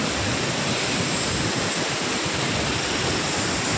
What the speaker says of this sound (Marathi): आणि हा धबधबा बघा, या धबधब्यावर पर्यटक लोक भरपूर थांबतात